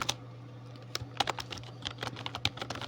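HTML code being typed on a computer keyboard, a run of irregular close key clicks with a few louder taps, over a steady low electrical hum and no talking.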